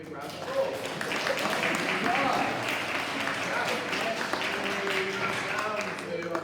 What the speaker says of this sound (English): Let's give this one a big round of applause